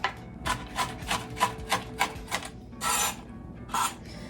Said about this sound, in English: we're just gonna give these a rough chop.